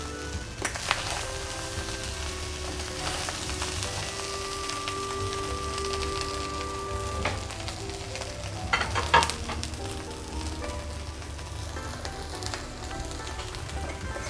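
Chicken vegetable fried rice with green onion and green chillies stir-fried in a pan, a soft steady sizzle under intermittent scraping and tapping of the spatula, with a brief louder clatter midway.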